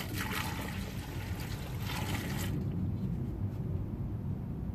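Amsoil Dominator coolant pours into a Honda radiator in a steady, close trickling splash, brighter and more splashy at first and then settling into a smooth, continuous low gurgling flow.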